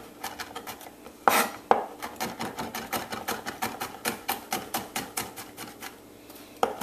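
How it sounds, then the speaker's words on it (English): A knife taps rapidly and steadily on a cutting board, finely mincing a crushed ingredient, with crisp close chops in an even rhythm and a few louder hits. "Just going to give it a little bit more of a mince."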